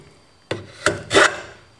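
A jack plane shaves across a wooden board in three short strokes, each a brief rasping scrape, the last one longest and loudest, close and alone without talk.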